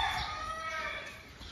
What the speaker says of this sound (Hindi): यहाँ के मुर्गे ने सबको जगा दिया।